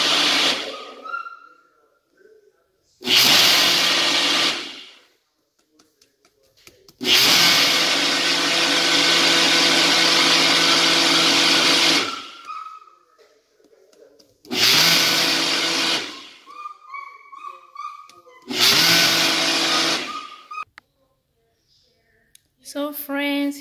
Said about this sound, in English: So friends, I'll just go ahead and give it a quick blend.